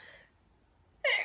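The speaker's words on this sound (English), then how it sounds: "excuse me, to have a sneezing fit" A single sudden, loud sneeze bursts out near the end, after a second of near silence, during a cross-stitch and crafting session.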